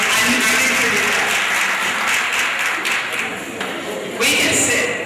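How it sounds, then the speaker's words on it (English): Applause from a staff meeting audience, a broad, continuous wash of clapping that dips briefly near the end before swelling again, with some voices mixed in. "I give yourself a round of applause."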